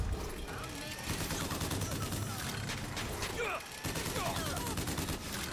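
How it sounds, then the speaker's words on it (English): A crank gun fires a rapid, continuous stream of loud shots in Bioshock Infinite, dense and relentless throughout, with other game noises and a voice talking underneath. "Let's get the crank gun. Let's pick up the crank gun!"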